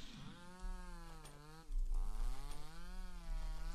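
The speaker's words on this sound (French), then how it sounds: "elle a sorti sa tronçonneuse" Chainsaw revving in the horror video game Mad Father, a droning motor whine that rises and dips in pitch, steady and fairly loud throughout with no talk.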